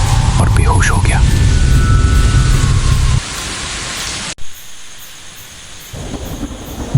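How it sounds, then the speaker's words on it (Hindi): Heavy rain pours down loudly during a nighttime storm, with deep rumbles of thunder in the first half before the roar cuts off abruptly and a thinner, softer rain continues. "बरसात और भी तेज हो चुकी थी"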